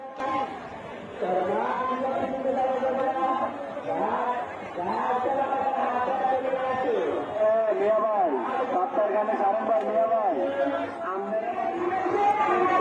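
A huge crowd of people at the Lengta Baba fair, thick with many overlapping voices that keep up a steady, close murmur of chatter throughout.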